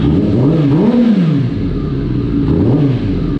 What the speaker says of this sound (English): it definitely a delay when I rev it up